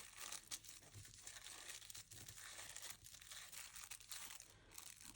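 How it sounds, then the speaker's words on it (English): Dressmaker's tissue paper being folded up, giving continuous dense crinkling and crackling close by, with sharper crunches scattered through steady rustle. "I've got some dressmaker's tissue, so we could fold that up."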